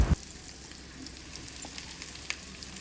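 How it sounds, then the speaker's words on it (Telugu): Bread slices frying in ghee in a pan give a steady, faint sizzle throughout, opening with a brief louder clatter and carrying a few small pops. "ఈ బ్రెడ్ స్లైసెస్ని బాగా ఎర్రగా దోరగా వేయించుకోవాలి"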